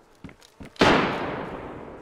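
A single loud gunshot in a video game rings out close by, its blast trailing into a long decaying echo, after a few soft thuds and faint voices.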